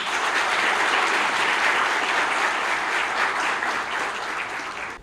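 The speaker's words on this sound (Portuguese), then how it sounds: "Também vamos receber com uma salva de palmas o professor Antônio Gomes." A Brazilian auditorium audience at a public-speaking workshop breaks into steady, dense applause welcoming a professor, holding full for about four seconds before starting to thin out at the end.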